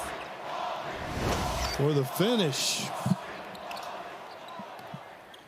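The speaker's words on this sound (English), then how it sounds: "Mountaineer crowd yelling, Paulie, after Polycap takes that charge." Home crowd at a West Virginia Mountaineers college basketball game against Iowa State yelling loudly after a charge is drawn, a broad roar swelling and fading behind a commentator's voice, with sneaker squeaks cutting through.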